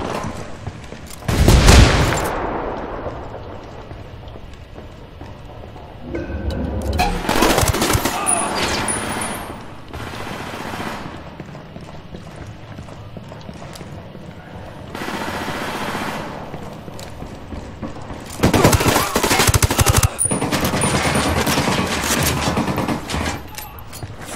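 Ghost Recon Wildlands firefight with bursts of rapid machine gun fire, loud and close, coming in several sustained volleys separated by quieter gaps with voices between them.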